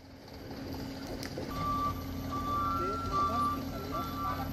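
A truck's reversing alarm beeps steadily over a rumbling engine, with people talking nearby.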